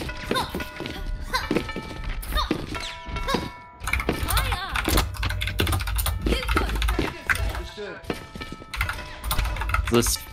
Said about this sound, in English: The spurious typing I'm hearing.